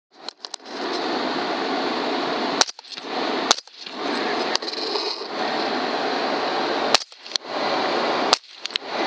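Rifle shots during a night hog hunt ring out as several sharp, loud cracks spaced a second or more apart, each breaking through a steady background hum.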